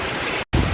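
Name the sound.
strong wind blowing with rain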